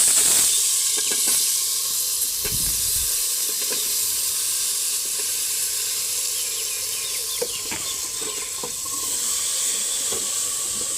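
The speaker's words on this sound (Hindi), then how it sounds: "आलू जी इसमें डाल दिए और घी भी डाल दिया" Potatoes frying in ghee in a home kitchen pan, a continuous close sizzle and hiss with scattered faint clinks and taps, no talk over it.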